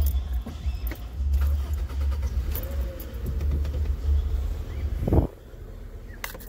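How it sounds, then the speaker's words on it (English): A 2005 Honda Civic engine with a cylinder 3 misfire turns over and settles into a low steady idle, with a few light clicks and rattles on top, ending in a brief louder burst. "I turned on the car"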